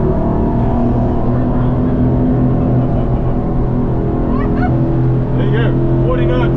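A SAY 42 motor yacht's engine roars steadily as it accelerates from 30 to 40 knots, with rushing water and wind noise, while voices talk intermittently over it.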